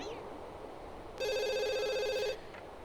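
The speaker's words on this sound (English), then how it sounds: "Where's that phone, Morgyn?" A telephone in the life-simulation game The Sims 2 rings in one electronic trilling burst of about a second, loud and close, over quiet background ambience.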